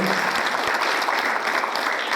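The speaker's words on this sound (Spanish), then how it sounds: "Le vamos a brindar un fuerte aplauso para que inicie su presentación" A seated audience at a lecture on civil protection applauds warmly to welcome the speaker, a brief, dense wash of clapping at steady volume.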